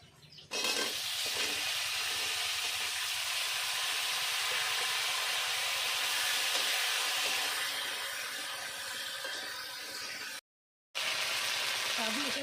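Cut yam fruits tipped into hot oil with fried green chillies in a village-style curry, giving a loud, steady sizzle that runs nearly unbroken, with a brief drop to silence near the end.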